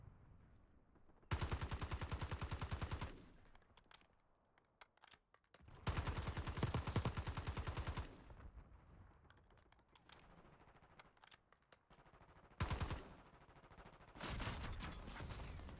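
Model L rifle firing incendiary rounds in a video game, rapid close bursts of automatic fire in several long strings separated by quieter gaps.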